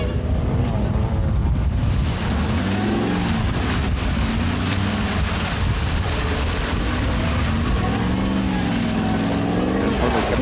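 Engine of a 4x4 trials vehicle labouring up a muddy hill at a Feilding trials round in New Zealand, a loud continuous rumble with rising and falling revs, wind buffeting and a voice talking over it.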